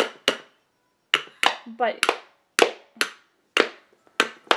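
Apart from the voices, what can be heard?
toy hammer banging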